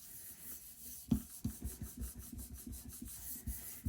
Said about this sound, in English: I do have my plastic sheet on my jelly plate, so I can rub easily across it